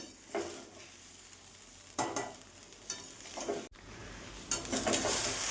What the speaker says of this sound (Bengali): এই দেখো একটু নাড়াচাড়া দিয়ে নিব